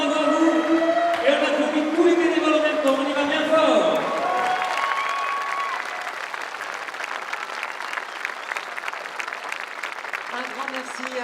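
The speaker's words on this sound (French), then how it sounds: "Je crois qu'on peut les applaudir encore bien fort." An audience breaks into warm applause for the volunteers of a festival, thick clapping at first that thins and softens into scattered claps over several seconds, with a voice speaking over the start.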